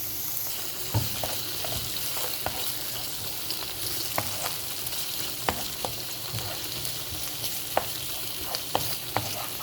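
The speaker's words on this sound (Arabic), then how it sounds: "هشوحه كده لمده دقيقه او حاجه" Squid sautés with garlic and onion in a pan, sizzling steadily up close, while frequent stirring adds scraping and light taps of the spatula against the metal.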